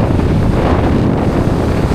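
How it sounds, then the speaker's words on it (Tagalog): Strong typhoon wind buffets the microphone over crashing surf at Dinahican, Infanta, Quezon during Typhoon Ramil, a constant loud roar with no letup. "Oh, laki ng alon mo."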